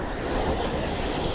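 Sea waves washing against a sea wall on the South Devon coast, a continuous broadband roar with heavy wind buffeting the microphone, close and loud throughout.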